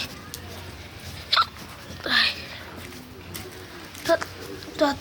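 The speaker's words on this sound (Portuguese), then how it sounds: "Tô até soluçando aqui de medo." Several short hiccups from a frightened person, spaced irregularly and close to the mic, with faint background noise and brief exclamations between them.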